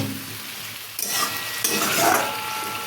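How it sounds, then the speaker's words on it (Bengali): Fish shukto sizzles loudly in a pan while being stirred, the frying hiss jumping up about a second in and continuing steadily with scraping strokes. "দিয়ে ভালো করে আমি এটা আবার একটু নাড়তে থাকি বন্ধুরা এইভাবে একটু"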